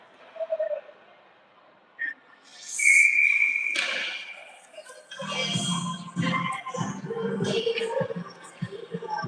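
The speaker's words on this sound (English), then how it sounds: "Whistle for hand pass." A referee's whistle blows once, sharp and piercing, for a hand pass during an ice hockey game between St Pete's and Sacred Heart. Muffled rink noise and crowd murmur follow.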